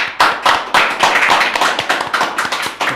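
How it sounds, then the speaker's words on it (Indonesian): Studio applause for a podcast guest, loud close clapping from a few people in an uneven, quick rhythm of sharp claps over three seconds. "Tepuk tangan dulu untuk Dr. Sumo Wirawan."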